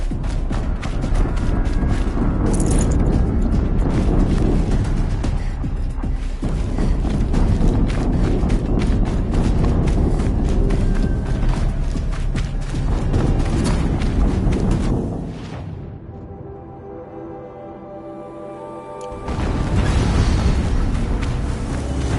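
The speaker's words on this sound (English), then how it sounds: "Another explosion." Explosions in the video game Horizon Zero Dawn come as repeated loud booms and bursts over a dense, clattering battle din, with a brief quieter lull before the blasts resume.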